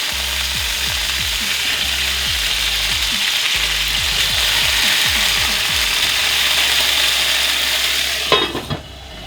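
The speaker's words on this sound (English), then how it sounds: "I'm going to flip these potatoes over." Braised potatoes turned over in a hot pan, giving a steady loud sizzle with repeated scraping, clicking strokes of a utensil against the pan, ending in a sharper clatter.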